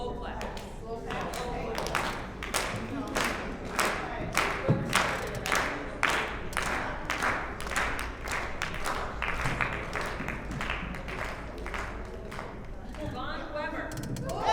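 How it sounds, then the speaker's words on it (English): Audience clapping in a slow, steady rhythm, with a roughly even series of distinct claps spread across the whole stretch, set against a room full of people, with a voice briefly audible near the end. "Slow clap. Slow clap."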